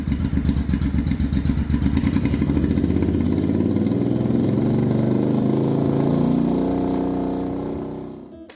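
A motorcycle engine runs steadily at close range for several seconds, revving with a fast even pulse before it winds down and cuts off near the end; the bike is running during a no-charge fault diagnosis with a new regulator rectifier fitted.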